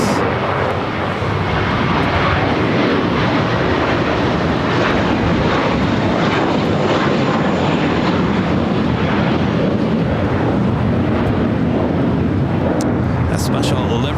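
An airliner takes off from the south side runways at LAX, a loud, steady broadband jet roar that fills the whole stretch without letting up.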